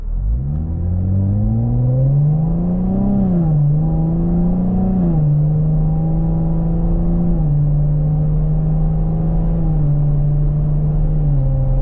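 A 2025 Chevrolet Camaro 2LT RS with a V6 engine accelerates steadily down the road, its loud, sustained engine drone rising in pitch, dipping briefly between gear changes, then settling into a constant cruising tone.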